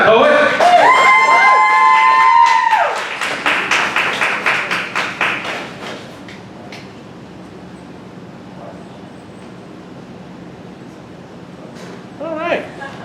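An audience applauds a poet at a poetry slam in Dayton, Ohio. Claps start right after a loud vocal passage and fade out over a few seconds into a quiet room.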